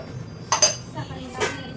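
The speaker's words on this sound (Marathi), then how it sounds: "साखर टाकली" A spoon clinks against a metal pot as sugar is added to boiling tea, with two quick metallic taps close together and another clink a moment later over a low background hum.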